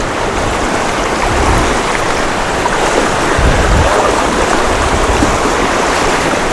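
A strong, wide river current in East Java rushes steadily nearby, a constant loud broadband wash of flowing water with occasional deeper swirls.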